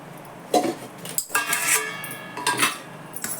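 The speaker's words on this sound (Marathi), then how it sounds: "ह्या कढईत पाणी ठेवलं मी आणि हा स्टँड ठेवलाय" A metal steamer stand set down inside a wok of heating water, giving several sharp metallic clanks and clinks close by, with brief scraping between knocks and no talk.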